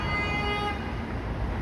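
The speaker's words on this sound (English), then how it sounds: "honk." A car horn blares on Yonge Street in Toronto, one loud sustained honk lasting under a second over constant close traffic rumble.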